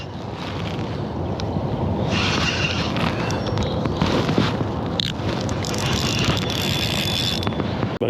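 Wind blowing steadily on open water during a bass fishing trip, a constant rushing roar that fills the clip with no talk.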